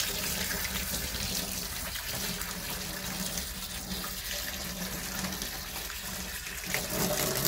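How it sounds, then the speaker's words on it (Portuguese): Tap water runs steadily into a sink as hands are washed outdoors at a country home. The broadband splashing stays constant and close, with no speech. "Agora eu vou lavar minhas mãos."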